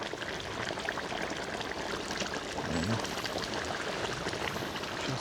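Boiling water pouring steadily into a cauldron of pilaf cooking over an open fire, a continuous rushing splash close by with faint background noise.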